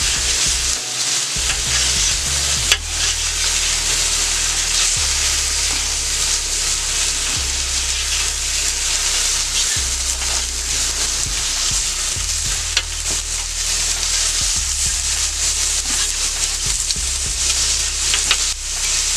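A steak on a Steelmade flat-top griddle sizzles loudly and steadily while being cut up, with a constant frying hiss and occasional faint scrapes of the utensil against the hot steel, no talking.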